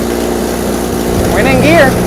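A 1964 International Scout engine, abandoned for about 40 years, catches and runs with a steady rumbling drone that swells slightly, while voices talk over it.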